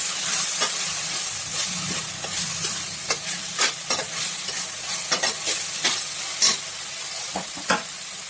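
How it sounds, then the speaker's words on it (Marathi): Green chilies, onion and garlic roasting in a pan, with soft continuous sizzling and a string of sharp scraping stirs, the spoon strokes landing at irregular intervals close by. "छान भाजून घ्यायचे आपल्याला हिरवी मिरची आणि कांदा लसूण हे सगळं छान भाजून घ्यायचे"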